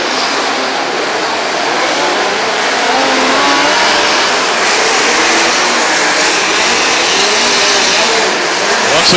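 Midget race cars roar around the Bull Ring oval, a loud, steady engine drone that swells and fades as the pack passes, with no break for the full stretch.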